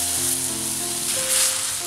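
Ground tomato puree hits spices frying in hot oil for chickpea masala, giving a loud, dense, continuous sizzle close up, with no voices.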